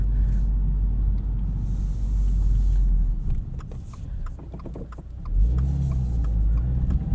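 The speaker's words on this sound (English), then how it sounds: "Still makes all the Subaru Boxer engine noises." A 2022 Subaru WRX boxer engine with 6-speed manual rumbles and idles up close, dipping and then revving up again toward the end.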